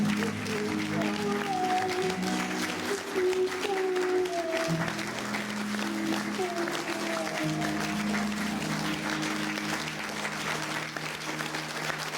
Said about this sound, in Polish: tych burzliwych oklaskach są bardzo Państwo zadowoleni z wieczoru spędzonego z tajemniczym Mister Love